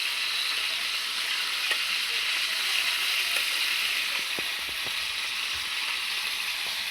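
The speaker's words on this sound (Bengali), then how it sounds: "মুরগিটা ভালো করে ভাজা তারপর আবার আলুগুলি ভাজা নেব" Chicken pieces fry in a hot pan for a home-cooked lunch, giving a steady, close sizzle with scattered crackles and pops throughout, no talking.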